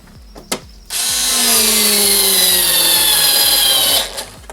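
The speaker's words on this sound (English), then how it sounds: "we're just gonna get the power screwdriver" A power screwdriver drives a Torx 25 screw into a Mercedes W204 C-Class door panel, a close, loud motor whir rising slightly in pitch and lasting about three seconds, framed by faint ratcheting clicks before and after.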